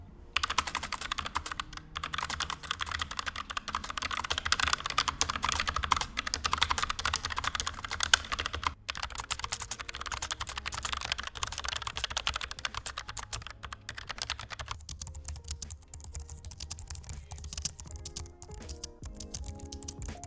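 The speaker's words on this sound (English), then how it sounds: "here's just an audible test of the brown switch, which is the quietest of the 3" Continuous close typing on a Logitech MX Mechanical keyboard with brown switches, muted, tactile key clicks in a fast, steady rhythm, with no talking.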